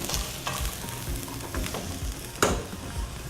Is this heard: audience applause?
no